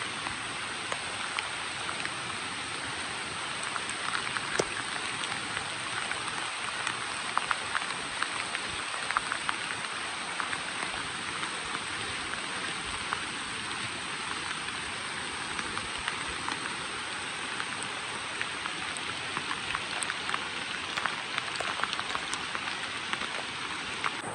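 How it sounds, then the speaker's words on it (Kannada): Heavy rain pours down steadily on Kumara Parvatha mountain, a dense unbroken hiss of drops on surfaces with no voices, constant throughout. "ತಿರ್ಗಿ ಇಳಿಬೇಕಾದ್ರೆ ಫುಲ್ಲು ಮಳೆ"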